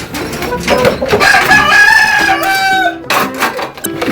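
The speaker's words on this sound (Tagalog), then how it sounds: "Dalawang decal brown to na rooster" A Dekalb Brown rooster crows loudly and close by, one long drawn-out call, followed by a few shorter clucks from nearby chickens.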